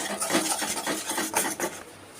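A spoon scrapes and stirs through a pan of sugar syrup with fennel seeds for puffed-rice murmura ladoo, giving close, steady rasping strokes with a few louder clinks, no talking.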